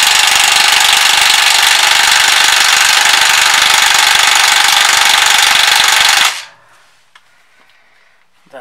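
A pneumatic impact wrench rattles continuously and loudly for about six seconds as it works on a nut on a car's front anti-roll bar link, then cuts off abruptly, leaving near silence with a faint click.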